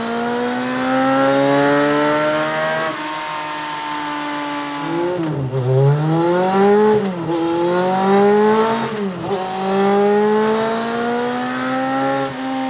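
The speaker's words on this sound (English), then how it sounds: "let's go ahead and add some David Liles ethanol fuel and make some more runs" A motorcycle on a dynamometer running ethanol fuel revs hard and loud up close, climbing through sustained high-pitched engine whines, then dipping and surging again through repeated throttle sweeps.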